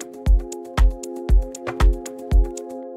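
An organic house chord with its third and fifth raised a half step holds steadily under a four-on-the-floor kick and ticking hats, with six thumping beats over a few seconds and no voices.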